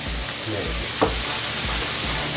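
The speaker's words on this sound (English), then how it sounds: "so I'm going to add my tomato paste" Tomato paste hits a hot pan and sizzles loudly, a constant close hiss with a few low stirring thumps and a soft clink.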